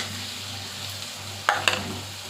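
Brain drops into a hot pan for frying, a faint steady sizzle with a couple of sharp clatters of the pieces hitting the metal near the end.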